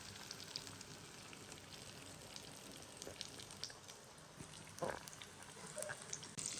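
Three pieces of chicken fry in a pan, giving a steady, quiet, crackling sizzle with occasional sharper pops and no talking.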